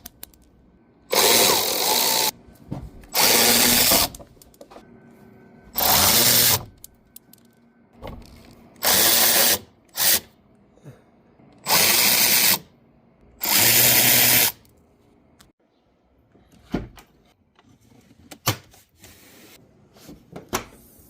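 Power drill with a Torx bit unscrewing screws from the front bumper of a 2019–2025 Audi A6 C8, several loud whirring bursts of one to two seconds separated by pauses, then a few brief clicks and handling noises close by.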